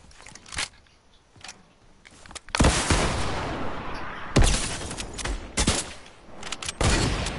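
Gunfire in a PS4 shooter, including a sniper shot, breaks out as a few sharp cracks followed by sustained loud bursts and booms, close and dense, with little talk.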